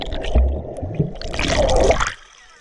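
Water splashing at a beach as people duck under the surface, a close burst of sloshing and gurgling that swells and then cuts off abruptly.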